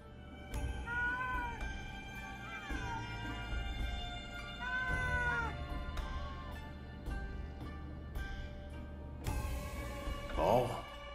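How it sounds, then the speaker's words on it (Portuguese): A cat in the video game Ghostwire: Tokyo meows repeatedly with rising and falling cries over a low game soundscape, while a voice speaks at times. "O que será que o gato tá fazendo?"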